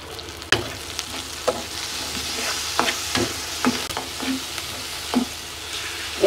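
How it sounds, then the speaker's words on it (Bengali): Onions and green chilies fry in oil in a pan under a steady sizzle, broken by irregular scraping clacks as a utensil stirs them. "আমি পেঁয়াজ দিয়ে দিলাম, দিয়ে দিলাম মরিচ, কাঁচা মরিচ"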